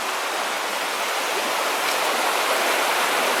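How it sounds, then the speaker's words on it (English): A mountain creek runs beside an old miner's cabin in the Sierra Nevada, giving a steady, close, broadband rush of flowing water that holds even and unbroken throughout, with no voices. "The creek's right here, as you can see."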